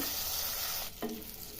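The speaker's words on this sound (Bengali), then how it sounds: "পটলগুলো উল্টে পাল্টে লাল লাল করে ভেজে নিব" Pointed gourd (potol) pieces coated in salt, turmeric and chili powder fry in a pan with a steady close sizzle; near the end a brief clatter marks them being turned, then the frying hiss carries on.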